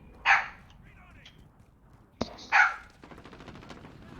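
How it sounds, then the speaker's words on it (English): A dog barks twice in a room, two short loud barks a couple of seconds apart, with a sharp knock between them and low background noise. "dog."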